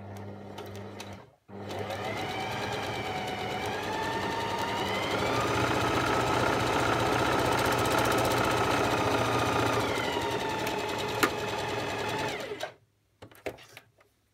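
A domestic sewing machine stitches jersey fabric on a stretch stitch along a shoulder seam, a fast, even mechanical whir running alone for about ten seconds between brief pauses.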